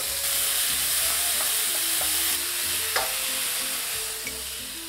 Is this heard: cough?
no